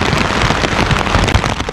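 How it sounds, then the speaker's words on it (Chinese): Heavy wind-driven rain pours down in Hong Kong during a yellow rainstorm warning, a dense, continuous loud hiss and patter of drops beating on surfaces throughout, with no voices. "横风横雨，大雨下能见度低"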